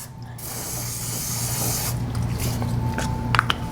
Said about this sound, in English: So I'm just going to give these a quick little spray on the inside.